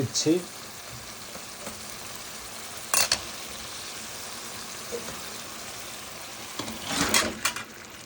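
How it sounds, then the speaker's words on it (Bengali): Pangasius fish pieces frying in hot spiced oil, with a constant close sizzle and sharp bursts of crackling and stirring near the start, around three seconds and again near seven seconds. "এখন আমি মাছগুলো ছেড়ে দিব বন্ধুরা আমার মশলা ভাজা হয়ে গেছে"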